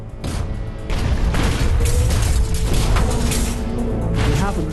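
A heavy, muffled boom of an underwater depth charge near a submarine rumbles in, followed by a sustained low roar and churning noise that stays loud throughout.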